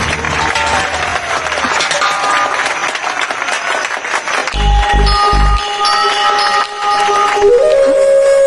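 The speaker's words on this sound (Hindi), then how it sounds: "जोरदार तालियां" Loud, sustained applause from a crowd at a prize ceremony, with music and bells mixing in and a few heavy thumps partway through.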